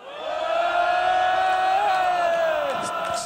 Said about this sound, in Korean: 5초간 함성!